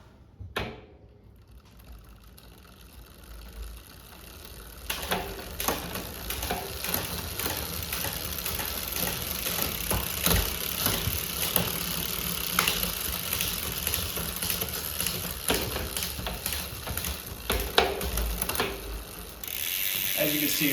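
Giant Trance Advanced Pro 29 mountain bike drivetrain shifting under load at higher cadence, with rapid ratcheting clicks and occasional sharper clunks of gear changes, continuous and close.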